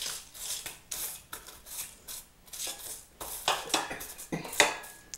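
A utensil scraping and spreading a lemon dessert mixture around the bottom of a springform pan, giving repeated close scrapes and clinks in an irregular rhythm, without talk.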